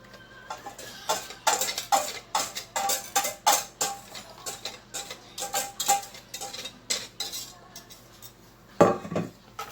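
A whisk rattles quickly and steadily against a metal pot of cornstarch-thickened banana pudding mixture, clinking in dense rhythmic bursts. A sharper clatter comes near the end, and nothing else is heard.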